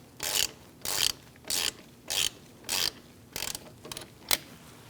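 A ratchet tightens brake caliper bolts on a 2000-2006 Mini Cooper, giving seven distinct bursts of close, crisp clicking in a steady back-and-forth rhythm, the last few strokes shorter and quicker.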